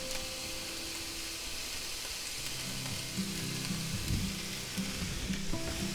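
Onions and mildly hot green peppers sizzling in a pan for a pork burrito filling, a moderate steady hiss that swells with added crackle and a few stirring bumps in the second half.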